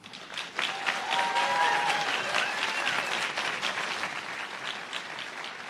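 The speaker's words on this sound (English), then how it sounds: "I know you just stopped clapping, but let's give one more round of applause for Steve McIsaac" Audience applause at an awards ceremony, the 31st Annual Emerald Awards, fills the hall with dense, steady clapping from many hands that swells and holds, with a few cheers and whistles riding over it.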